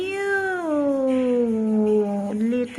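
A kitten gives one long, loud, drawn-out meow close by, falling slowly in pitch before a brief upturn at the end.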